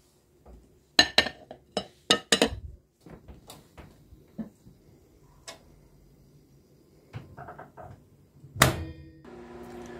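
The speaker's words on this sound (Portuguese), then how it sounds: "vou levar no micro-ondas até fechar uns 5 minutinhos" A bowl of chocolate cake batter goes into a microwave oven in a home kitchen, with scattered clicks, knocks and clattering handling noises, a sharp door clunk, then a low steady hum at the end.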